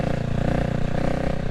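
A single-cylinder 600cc motorcycle with twin exhaust runs close by, its thumping engine pulsing in a steady, throbbing rhythm.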